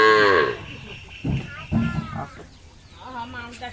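A dairy cow in heat on a village farm gives a loud, drawn-out moo at the start, followed by close human voices talking and faint background sounds.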